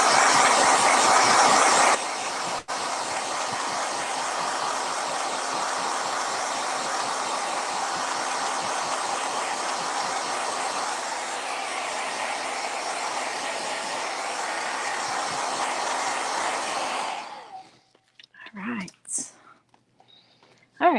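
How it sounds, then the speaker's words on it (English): A handheld blow dryer whirs as it dries acrylic paint on a sunflower canvas, a loud steady roar that runs for about seventeen seconds. It then cuts off, leaving brief clatters and handling noises. "let's go ahead and grab our blow dryer again and just blow that center dry"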